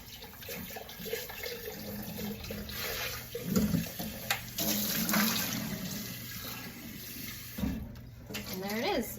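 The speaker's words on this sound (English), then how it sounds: "So we'll dump out all that peanut butter water." Peanut butter water pours and splashes out of a blender into a sink, running water gurgling over several seconds with faint background noise.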